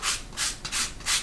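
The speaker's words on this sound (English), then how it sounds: "I'm just gonna take some sandpaper, just lightly, very lightly," Sandpaper lightly rubbed over cut leather pieces for a card holder, heard as four steady, even scraping strokes, close and soft, with no talking.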